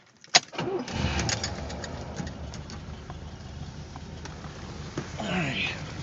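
A 1980 Corvette engine starts with a sharp crank, catches and settles into a rough, steady idle close by, with some light background sound near the end.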